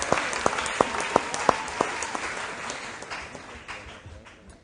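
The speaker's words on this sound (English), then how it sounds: "Ladies and gentlemen, a round of applause to the contestants." An audience applauds quiz contestants at a national school quiz championship, starting with a few sharp, distinct claps that blend into a brief burst of applause and fade out within seconds.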